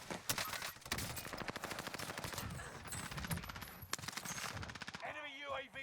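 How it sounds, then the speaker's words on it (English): Rapid automatic gunfire and scattered shots crackle around the player in the battle-royale video game Call of Duty Warzone, dense and continuous for several seconds before fading into electronic game sounds. "People are getting shot all around me."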